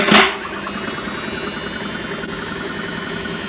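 Replacement motor in a Hotpoint Aqualtis washing machine spinning steadily, a brief louder thump at the start giving way to a constant even mechanical hum and whir with no voices.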